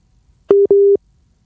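A telephone busy signal sounds on a radio phone-in line. Two loud, steady electronic tones come back to back, a short beep and then a longer one, with silence on either side.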